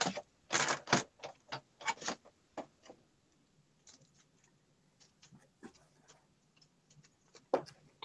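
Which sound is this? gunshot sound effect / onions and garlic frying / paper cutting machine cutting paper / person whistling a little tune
paper cutting machine cutting paper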